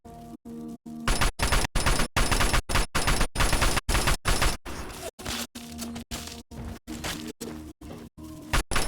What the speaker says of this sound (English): He's freaking trying to get me with a freaking shotgun at range.